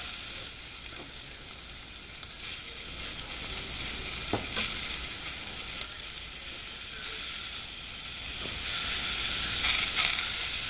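Tomatoes sautéing in hot oil in a pan for spinach sambar, a steady close sizzle and hiss running the whole time with occasional stirring clinks and scrapes, growing slightly louder toward the end.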